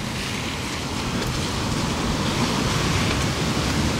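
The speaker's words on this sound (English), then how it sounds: "Boy, that water's starting to come." Floodwater rushes through a flooded Houston street during Hurricane Harvey, a loud, steady broadband roar of moving water that rises slightly and carries no speech.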